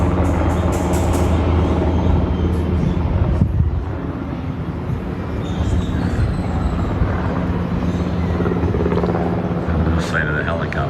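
Helicopter flying over the valleys around Puerto Vallarta, a steady loud rotor and engine drone lasting about eleven seconds, with voices in the background.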